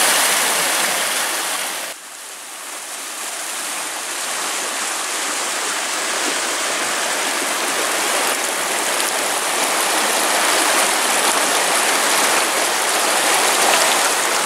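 Clear spring water pours and rushes steadily near an abandoned bridge, a continuous broadband splashing flow that stays loud and close throughout, with a brief dip early on.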